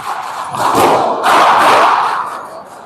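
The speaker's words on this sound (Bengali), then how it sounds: "এত পরিমাণ আতশবাজি ফুটানো হচ্ছে যার কারণে কথা শোনা যাচ্ছে না ভালো করে" Fireworks boom loudly in two close blasts over a noisy crowd at a midnight celebration in Italy, the rumble fading away afterward.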